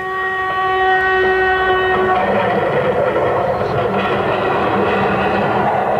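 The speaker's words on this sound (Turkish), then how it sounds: "Bak düdüğü bastı." A train horn sounds a sustained chord for about two seconds over the loud rumble of a passing train, which keeps roaring after the horn stops.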